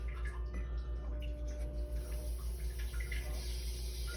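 Brondell LE99 bidet rear wash spraying water in a continuous, even hiss with a low steady hum beneath, quiet and close, with no break.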